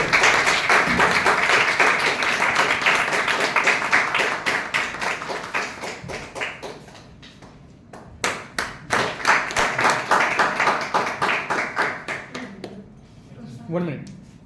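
A speech contest audience claps for a winner: steady dense applause for several seconds, then thinning into scattered, separate claps, with a voice briefly at the close.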